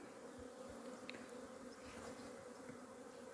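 Honey bees fly around an open beehive, making a faint, steady, droning buzz that holds throughout, with no talk.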